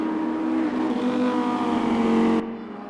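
An Audi race car engine roars steadily at high revs at Silverstone in a racing video game, with a loud sustained tone that cuts off abruptly near the end.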